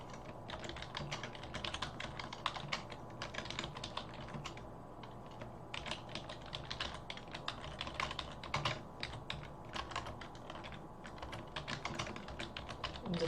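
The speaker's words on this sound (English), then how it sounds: "Sorry for the clacking noises. I'm still using the keyboard ZJ gave me." Rapid clacking keystrokes on a computer keyboard, continuous bursts of typing close up and fairly quiet, with no voices.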